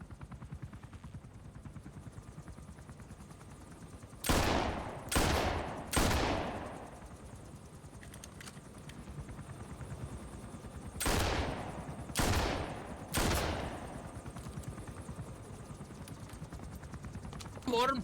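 Two volleys of three sharp gunshots each ring out in the video game Metal Gear Solid, fired at a helicopter's spinning blades, loud over a steady low rotor drone, with talk around them.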